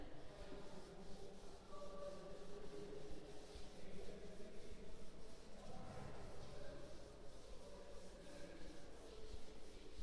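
Soft, continuous rubbing of an eraser across a classroom board, faint and steady with slight swells, no voice over it.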